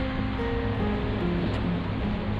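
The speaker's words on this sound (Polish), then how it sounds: "Za nami wodospad." Waterfall in Yosemite Valley heard from a distance as a steady, dense roar of falling water, unbroken and fairly loud throughout.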